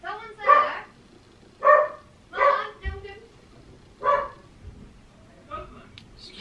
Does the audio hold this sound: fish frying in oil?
no